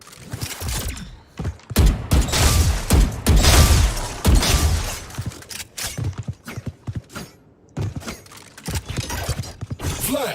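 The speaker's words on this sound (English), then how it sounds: "Flashbang." A flashbang grenade goes off during a loud video game firefight, with sharp blasts and rapid bursts of gunfire in dense, close clusters and brief lulls between them.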